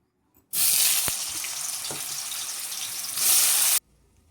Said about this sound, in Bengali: প্রথমে কাঁচকলাগুলো ভেজে নেব।